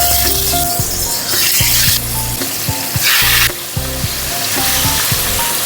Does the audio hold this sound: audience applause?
no